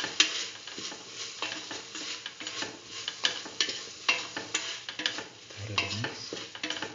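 A mung bean and ash gourd stew seasoned with turmeric and salt is stirred in a pan, a spoon scraping and clattering in an uneven rhythm over a soft, continuous sizzle, close and moderately loud, with no talking.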